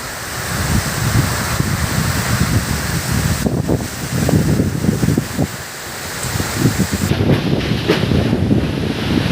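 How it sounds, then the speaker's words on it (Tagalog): Powerful wind from Typhoon Aghon blasting in gusts, rumbling against the microphone with a constant rushing roar and brief lulls between surges. "Grabe ang bagyo. Napakalakas."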